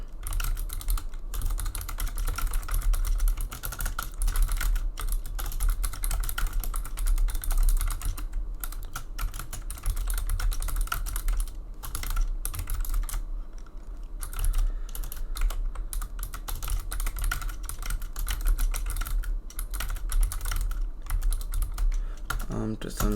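Fast, continuous typing on a computer keyboard: dense, steady key clatter close to the mic that runs the whole time, with no talking.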